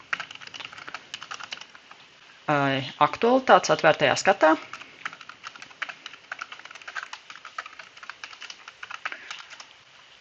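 Computer keyboard typing while filing a bug report: light, rapid clicks run throughout at a soft, close level, with someone speaking over the middle stretch.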